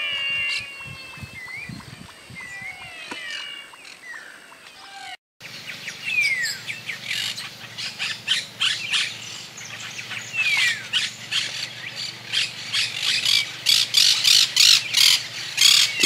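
Herons, including white herons with yellow bills, feed in a wetland at Villa Roda, Santa Fe, Argentina, with repeated squawks and chirping calls from several birds, sparse at first and then denser and louder after a short break.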